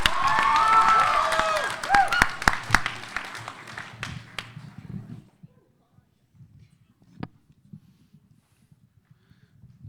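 A crowd claps and cheers for a spoken word performer at a grade 11/12 competition, loud at first and then thinning out until it stops, with only faint stray sounds and a voice afterward.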